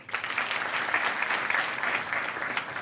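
Audience applause at a motivational talk session, a steady burst of clapping from a large crowd sustained across the whole moment, fairly loud and dense without any speech over it.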